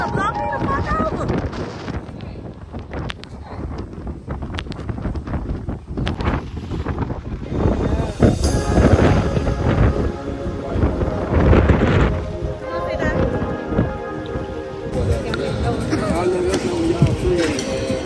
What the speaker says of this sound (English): That wind about to blow me the fuck over.